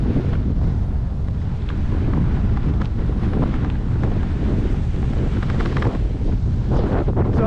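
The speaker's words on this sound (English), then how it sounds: "the wind is really starting to pick up" Strong wind by Lake Apopka on a gravel trail ride, buffeting the microphone in a heavy, continuous low roar with gusty surges and rustling crackles throughout.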